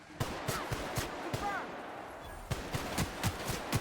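Gunfire in The Outer Worlds video game: a string of sharp, evenly spaced shots, briefly pausing before resuming, moderately loud, with a voice talking quietly underneath.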